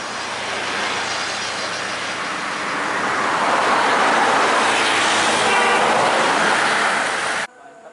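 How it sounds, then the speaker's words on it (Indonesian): An MPM intercity bus passes at speed on a Sumatran road at Batang Palupuh, its roar building loud and close before cutting off abruptly near the end. "Bus MPM nih."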